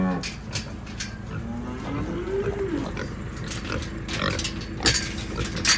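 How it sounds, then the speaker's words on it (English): A cow moos loudly nearby while pigs grunt and squeal continuously in a busy, noisy barnyard by a feedpad. "Look at these happy pigs and happy cows."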